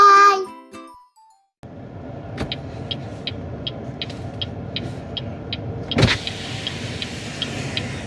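A BYD Atto 1 car reverses with a steady run of evenly spaced electronic warning beeps over low road and motor rumble. A short voice is heard at the very start, and a louder burst comes near the end.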